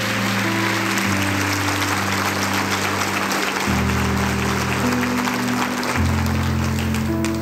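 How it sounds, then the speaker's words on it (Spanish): A church congregation claps loudly for the Lord during a service, with the crowd applause blending into sustained, steady music with deep held chord tones underneath. "Dale un fuerte aplauso al Señor, por favor."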